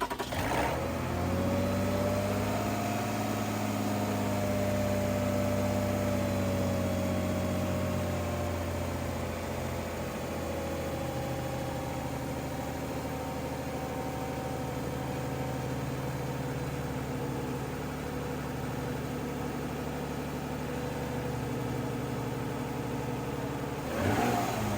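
A Toyota RAV4 with a throttle position sensor fault starts up with a brief rev, then settles into a steady mid-pitched engine idle, close and continuous for the rest of the clip.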